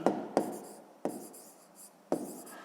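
Pen strokes scratch across paper while a fifth-grade maths exercise is written out by hand, four distinct bursts of scribbling with brief pauses between them, close and fairly soft, with no talking.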